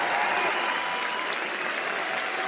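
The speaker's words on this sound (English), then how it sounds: "can we get a huge round of applause and a cheer for GH and Nigma Galaxy" A large arena crowd at The International esports tournament applauds and cheers in a dense, steady roar that fills the space, with no voice standing out.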